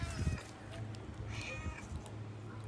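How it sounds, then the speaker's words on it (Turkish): Several hungry street cats meow close by, overlapping high, plaintive cries, while a person talks quietly underneath as they are fed. "Çok acıkmışlar bu kediler."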